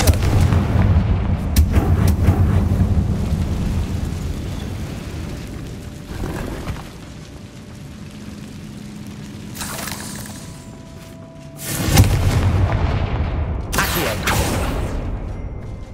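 Confringo blasting spells in Hogwarts Legacy set off heavy booming explosions, several loud bursts with rumbling, crumbling debris between them, and no talking.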